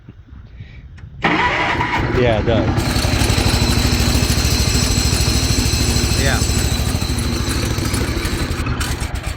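A motor cranks and catches abruptly, then settles into a loud, steady idle close by, with its rhythmic chugging continuing to the end while a couple of people exchange brief words over it.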